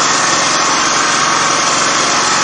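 A gasifier-fuelled engine on a Phoenix gasifier with a new nozzle design runs close and loud throughout, a steady buzzing drone with no pauses.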